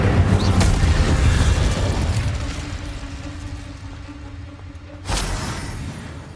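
Incendio fire spell blasts in the Hogwarts Legacy video game: a loud booming burst that fades over several seconds, then a second sharp blast near the end, with no voices.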